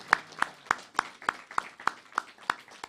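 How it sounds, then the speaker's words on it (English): An audience at an ISKCON Sunday temple program in Coventry claps for the mothers. The claps are faint, crisp and evenly spaced, about ten in a steady rhythm. "Give them a big round of applause"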